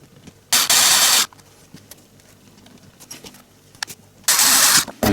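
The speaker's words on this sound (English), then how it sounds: "You just want to make sure that when you're using the electric screwdriver, you don't want to over torque the screws" An electric screwdriver with a hex socket drives screws into an acrylic display case for an Eaglemoss DeLorean Time Machine model, giving two short, loud whirring bursts separated by quiet handling noise.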